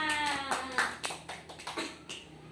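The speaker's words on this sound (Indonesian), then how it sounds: "Oke, kita kasih tepuk tangan." Students in a classroom clap in a short, scattered burst of separate claps at moderate loudness, with a bit of voice mixed in.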